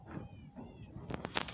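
Several Minecraft cats meow in short bursts, close and fairly clear, followed by a few quick clicky game sounds.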